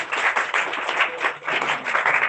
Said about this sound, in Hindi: बच्चे के लिए जोरदार तालियां